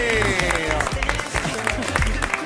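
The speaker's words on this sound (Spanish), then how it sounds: "Aplauso para el señor Marcelo Polino." Studio audience on an Argentine TV talk show applauds a guest's entrance, steady clapping and cheering mixed with loud rhythmic music that carries through the whole stretch.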